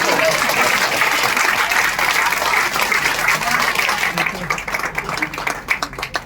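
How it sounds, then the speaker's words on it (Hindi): Seminar audience bursts into loud, dense clapping for a man asked to stand, then thins after a few seconds into scattered, separate claps with some voices underneath. "इस भाई को खड़ा करो और ताली बजाओ इसकी।"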